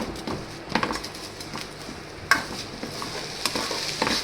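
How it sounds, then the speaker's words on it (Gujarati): A spoon stirs a thickening poha khaman dhokla mixture in a pan, giving soft repeated scraping strokes with a faint sizzle underneath, close and moderately quiet with no talking. "ખાલી હલાવવાનું જ. જ્યાં સુધી ઓલું ન થાય ને ત્યાં સુધી એને હલાવ્યા રાખવાનું"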